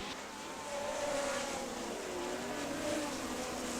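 Race cars roar side by side into turn 4 at a Great Lakes Thunder 2000 oval event, a steady, loud engine drone with rising and falling pitch as the pack passes, under a faint crowd wash.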